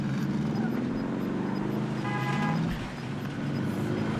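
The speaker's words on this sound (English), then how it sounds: "Fuck it, I'll drive. We're gonna take the car." Car engine driving in the video game Warzone, a steady broadband vehicle drone with a low rumble held throughout, close and fairly loud, with no talking over it.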